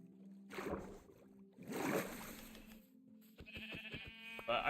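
Sheep in the Minecraft video game give two wavering bleats in quick succession, moderately close, followed by clicking and shimmering game sound effects. No one speaks.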